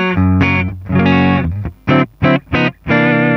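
Electric guitar played through a clean Twin Reverb amp and cabinet model on a Hotone Ampero One multi-effects unit, ringing sustained chords followed by three short, punchy strums, loud and alone.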